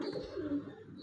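Breeder pigeons cooing up close: a brief, soft, low throaty coo repeated in quick murmuring pulses, with no voice over it.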